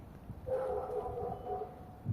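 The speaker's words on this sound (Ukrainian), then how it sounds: "Вона чує якісь собаки." Dogs yip and bark somewhere off in the distance in a short burst of faint, whimpering calls over low background noise.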